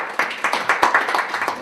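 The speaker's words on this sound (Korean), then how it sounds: "박수 한번 부탁드리겠습니다." An audience claps at a community sustainability presentation session, a brief burst of scattered, moderately loud hand claps with an uneven rhythm, no voices over it.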